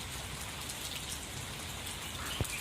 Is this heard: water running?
no